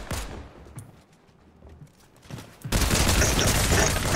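Fortnite gunfire erupts loudly in the final second and a half as a dense sustained burst of shots, after a few scattered isolated reports and quieter stretches of game ambience earlier.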